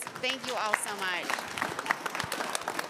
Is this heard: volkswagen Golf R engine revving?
no